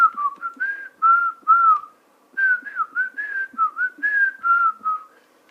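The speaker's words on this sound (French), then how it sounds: "Oui, je siffle très bien." A person whistles a melodic tune alone, with short rising and falling phrases broken by a brief pause midway, clear and close.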